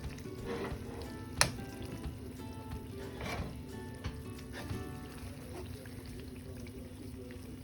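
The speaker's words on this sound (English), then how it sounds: "we have to keep on stirring and frying until the raw smell of tomatoes goes away" Steady frying sizzle of tomatoes in a pan with occasional scraping and clinks of a spoon stirring, one sharp clink standing out early; no voices.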